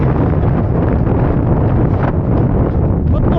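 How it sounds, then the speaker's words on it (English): Strong wind buffets the microphone at the Rotterdam Marathon, a loud continuous roar and rumble with no break, masking everything else. "a bit windy, but the weather is fine"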